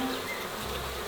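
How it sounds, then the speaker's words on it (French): Bees buzz steadily and densely from a humming hive, a close, continuous drone with no voices. "À une ruche bourdonnante"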